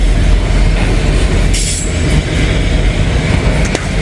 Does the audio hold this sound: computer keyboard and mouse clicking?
no